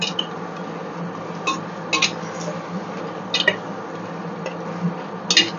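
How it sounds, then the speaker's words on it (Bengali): Food being stirred and sautéed in a pot, with a low background hum broken by intermittent metallic clinks and scrapes of a utensil against the pot, close and moderately loud. "চলো ভালো করে এটা নেড়ে কষিয়ে নিই।"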